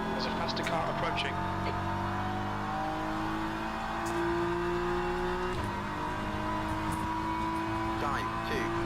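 A faster race car approaches in the Le Mans Ultimate racing game at Sebring, engine whine layered over the steady drone of the player's own car, with a voice talking over it.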